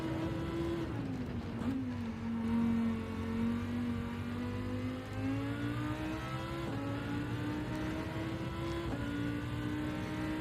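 Race car engine lapping the Nurburgring GP circuit in a racing game, a steady close droning note that rises and dips with gear changes and throttle, continuous with no pauses.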